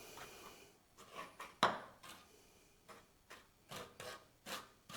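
A trowel sweeps across wet latex floor screed in repeated scraping strokes, each a soft rasping rub, with one louder scrape partway through; close and fairly quiet, with no talking.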